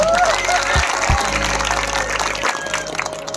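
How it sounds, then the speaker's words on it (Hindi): A crowd in a hall at a celebration event claps together in a loud, dense burst that starts strong and gradually thins out, with a couple of low thumps and faint voices mixed in. "और अब एक ताली अपने लिए बजाइए।"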